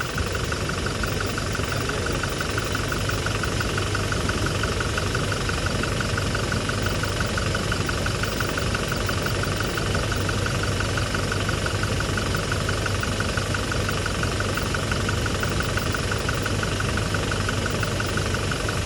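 A Toyota Innova Crysta diesel engine with about 1.5 lakh km on it idles steadily and close up, a constant low rumble with a faint rhythmic knock and no voices, throughout.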